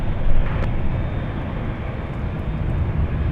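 A Boeing 777 airliner at LAX airport gives a steady, broadband jet roar that stays loud and even throughout, with a slight swell near the start and no voices.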